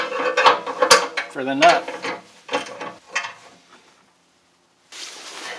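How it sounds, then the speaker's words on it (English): A ratchet with an 18mm socket tightens the nut on a Sprinter van swivel seat adapter, giving a few close ratcheting clicks and metal clatter in bursts, a short spoken remark, a pause, then faint rustling. "So I have a 16mm wrench for the bolt, and I have an 18mm socket"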